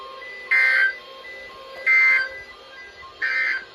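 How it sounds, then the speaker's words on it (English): National Weather Service weather radio warning alarm tone sounding in three loud, steady bursts of about a third of a second each, separated by roughly a second of quiet hiss. "This ends the test of the National Weather Service weather radio warning alarm."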